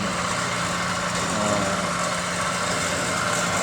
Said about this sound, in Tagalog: habang nandito po ako sa pump room, papaandar ng mga motor